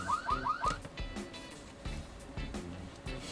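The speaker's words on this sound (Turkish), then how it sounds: "kameramız bir hareket algıladı e, ve cihazınız da sizi uyarıyor." An OSMART ABQ 5100 IP camera's motion alarm sounds four rapid warbling chirps in quick succession, followed by scattered soft knocks and thumps in a quiet room.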